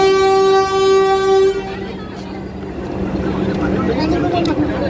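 A Vande Bharat Express on the Puri–Howrah run: a sustained horn tone opens, then gives way to the steady, loud rumble and rattle of the moving train.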